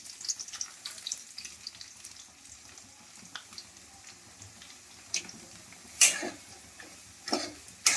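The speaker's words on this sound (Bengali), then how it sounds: "এখানে আমি কড়ার মধ্যে ঘি দিয়ে তেজপাতা এলাচ আমি ভাজছি" Bay leaf and cardamom fry in ghee in a wok, giving a quiet, steady crackle and sizzle with a few louder pops and clinks.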